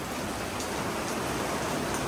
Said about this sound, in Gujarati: જોઈ લો વરસાદ આવી જવો